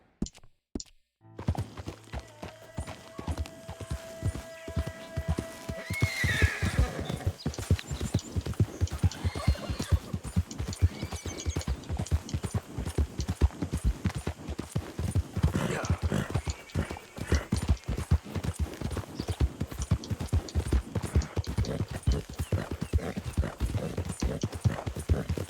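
Horse hooves galloping in Red Dead Redemption 2: a fast, steady clip-clop rhythm runs on and on at close range, with a brief neigh near the start and a faint voice now and then.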